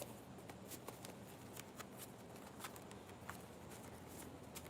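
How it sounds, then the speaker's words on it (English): Faint, quick riffling clicks of a deck of cards being shuffled repeatedly over steady background hiss. "Shuffling one deck."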